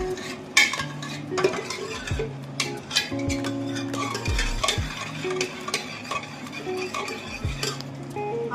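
Cooked mixed dal being mashed and stirred in a pot, steady scraping and clinking of a utensil against the metal with repeated knocks, close and continuous, no talking.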